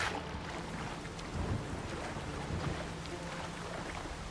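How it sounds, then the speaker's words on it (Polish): A storm heard from underwater in The Witcher 3: a steady, muffled low rumble with watery wash and faint swells, continuous throughout without clear talk. "Burza fajnie słychać pod wodą"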